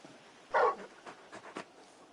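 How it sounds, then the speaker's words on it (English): A large dog in the Final Fantasy XVI video game gives a short yip followed by a few soft whimpering grunts, close and fairly quiet over a brief stretch. "You're just a big puppy, aren't you? A very big puppy."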